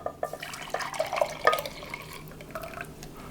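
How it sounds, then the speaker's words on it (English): Warm saffron liquid sweetened with sugar is poured onto 7 grams of dry active yeast for St Lucia buns. It makes a brief, close splashing trickle with a few drips, and no voices. "I'm going to pour it into 7 grams of dry active yeast."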